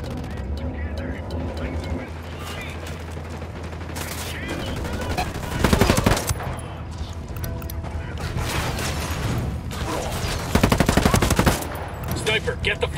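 Loud, rapid bursts of automatic gunfire and fusillades fill a Ghost Recon Wildlands firefight, with dense repeated shots and heavy volleys peaking twice, while voices talk over the combat.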